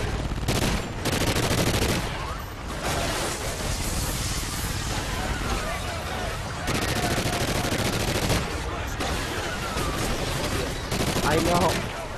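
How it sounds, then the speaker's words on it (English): Heavy automatic gunfire in a Call of Duty Ghosts multiplayer match, loud sustained bursts with brief gaps between volleys, close and dominant, with faint voices mixed underneath. "Keep firing, don't give up."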